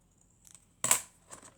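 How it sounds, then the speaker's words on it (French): A pair of scissors trims an artist trading card to size, giving one sharp, close snip with a few faint paper rustles before it and a softer cut just after, with no talking. "Ouais, il est un peu grand, donc je vais couper."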